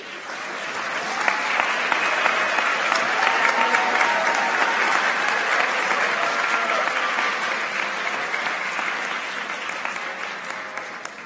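Audience applause at a school awards ceremony honoring students, a dense, steady wash of clapping from a large crowd that holds for about eleven seconds and slowly fades toward the end.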